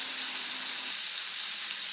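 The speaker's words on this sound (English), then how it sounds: "I'm just frying me up a piece of sausage." Steady, close sizzling of sausage frying in a hot pan, a constant crackle with no voices.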